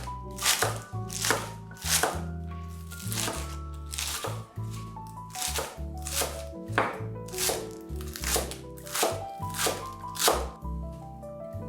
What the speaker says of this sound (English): Finely chop a bunch of green onions